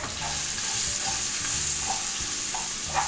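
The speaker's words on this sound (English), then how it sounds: "Saute the onions now nicely." Finely chopped onions sauteing in a pan make a dense, steady, close sizzle, with occasional scrapes of stirring and no voices.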